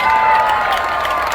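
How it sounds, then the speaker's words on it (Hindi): A live stand-up comedy crowd in Chicago claps loudly and dense clapping fills the room with some cheering and shouts mixed in, sustained for a moment with no one talking over it. "एक बार अपने आप के लिए जोरदार तालियां बजाइए।"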